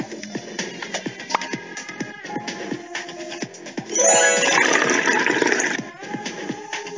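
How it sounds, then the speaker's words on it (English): Water pours steadily into a glass bowl already holding sugar syrup and vegetable oil for roughly two seconds, a bright splashing stream set against light background music and faint taps. "Add some water."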